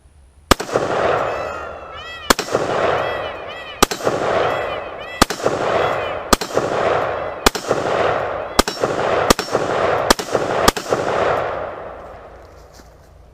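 A rifle fired repeatedly during a reliability torture test: about nine sharp, loud outdoor shots spaced one to two seconds apart, each trailing off in a long echoing rumble.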